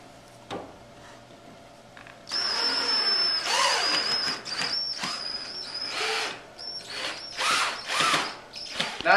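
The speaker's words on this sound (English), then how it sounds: "start screwing your provided flat bracket screws at an angle to pull the bed faces together" A power drill drives flat bracket screws at an angle into the faces of a wall bed, its whirring bursts starting and stopping close by, with clicks and handling noises between runs.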